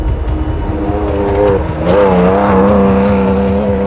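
A Tuthill Porsche 911 rally car powers along a safari rally stage in East Africa, its engine loud and close with a steady droning note that rises as it revs partway through.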